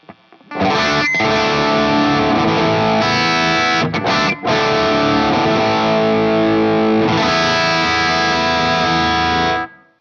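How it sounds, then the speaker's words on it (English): Electric guitar through a NUX Fireman distortion pedal, loud dirty chords strummed and held with brief stops, then a final sustained chord fading out. "if I wanted to get something more dirty, I use the Fireman distortion"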